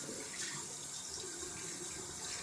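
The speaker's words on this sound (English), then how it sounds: "I'm just trying to wash out my hands here," Water runs steadily from a bathroom faucet while hands caked in shaving lather are rinsed under it, a continuous close hiss and splash with no talking.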